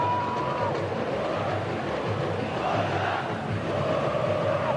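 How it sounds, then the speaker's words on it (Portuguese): Coritiba supporters chant in a packed football stadium during a 2013 Brasileirão match against Fluminense, a dense, unbroken roar of massed voices filling the space at steady loudness. "A torcida do Coritiba canta sem parar."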